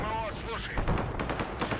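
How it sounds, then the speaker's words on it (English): Distant gunfire crackles in a video game, a scatter of sharp shots and bursts over a busy, noisy battle soundscape with some voice-like chatter in the mix. "We are hearing some kind of gunfire here"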